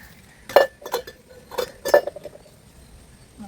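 Dishes and utensils clinking during washing at home, a handful of sharp metallic and glassy clinks in quick clusters, close and clear against a quiet background.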